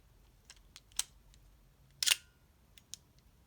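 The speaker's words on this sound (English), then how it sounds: "See how long of an exposure this is." Nikon FA film camera shutter in a darkened room during a long exposure: soft small clicks, then one sharp mechanical release snap, followed by faint ticks, all close and quiet.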